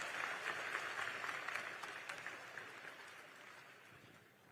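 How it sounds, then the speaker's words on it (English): A crowd at a campaign town hall event claps steadily, the applause sounding somewhat distant and gradually tapering off toward the end. "Give Liam a round of applause, folks, for being brave and asking a tough question."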